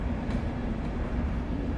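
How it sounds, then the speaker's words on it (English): A Virgin Trains East Coast service rolls into York Station with a loud, steady rumble and rail noise that fills the whole moment, with no voices over it. "Virgin Trains East Coast, arriving at York Station for London King's Cross"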